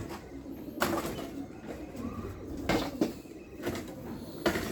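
Soft pigeon coos repeat among low, murmuring bird sounds, with a few sharper knocks or thumps standing out, close by and moderately quiet.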